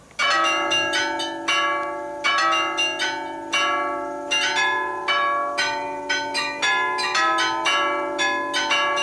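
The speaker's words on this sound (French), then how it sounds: "toutes les heures, le carillon de Binche joue un air qui s'appelle Le petit jeune homme" Carillon bells of Binche in Belgium ring out the tune Le petit jeune homme, a clear melodic sequence of struck bell notes with ringing decays, close and fairly loud, no talk.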